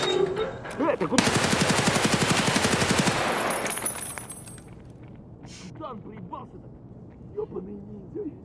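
The player's own weapon fires a loud sustained automatic burst in Escape from Tarkov, a rapid rattling stream lasting a few seconds, then quieter scattered shots as someone talks over the action.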